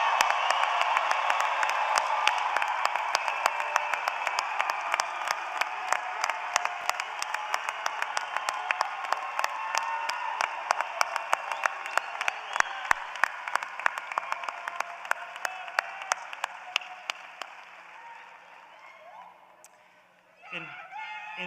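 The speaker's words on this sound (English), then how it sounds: "How about another big, loud round of applause for the class of 2022?" A large crowd at a spring 2022 college commencement ceremony bursts into sustained, loud applause for the graduating class, dense clapping with scattered whoops that gradually fades before a brief rustle at the end.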